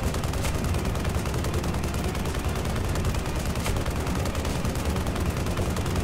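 A chain cannon fires in Tribes Ascend as a dense, continuous stream of rapid gunfire bursts, loud and steady, with no talking over it.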